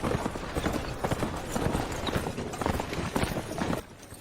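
Horse hooves clip-clop in a quick irregular rhythm, fairly close and moderately loud, with no voices.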